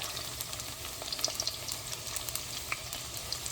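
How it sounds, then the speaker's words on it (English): Onions sizzle in hot oil for chili oil, a constant fine crackle with scattered small pops and light stirring, moderately quiet and close. "Give it a few seconds and add your onion"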